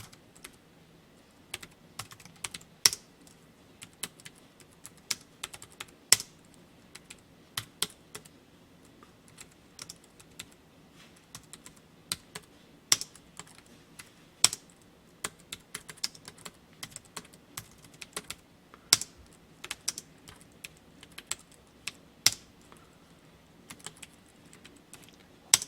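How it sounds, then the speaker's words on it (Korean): Steady typing on a computer keyboard while entering an ITQ Hangul 2020 exam document, with sharp irregular key clicks close up and occasional louder strokes, no voices. "1점 엔터 하고 타이핑 치겠습니다"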